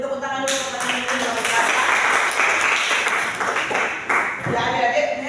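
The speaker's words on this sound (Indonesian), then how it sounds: "Beri tepuk tangan dulu pertanyaan ini." A classroom of students claps together for a question in a religious education lesson, a dense burst of applause that carries on for several seconds with a teacher's voice and some chatter mixed in.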